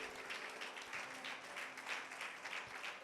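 A church congregation applauds in steady, dense clapping that holds through the whole stretch at moderate, somewhat distant volume, with a faint low hum underneath and no clear voices.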